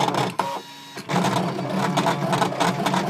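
An electronic paper cutting machine whirs and rattles continuously up close, its motor buzzing with rapid mechanical chatter and a brief pause partway through.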